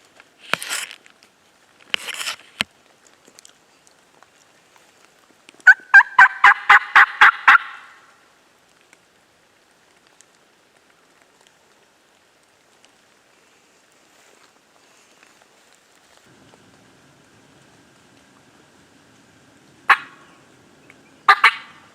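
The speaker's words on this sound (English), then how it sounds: "Just got my first gobble." A wild turkey in Vermont gobbles at a distance in several separate calls: a rapid rattling burst in the middle and shorter calls at the start and end, with long quiet stretches between them.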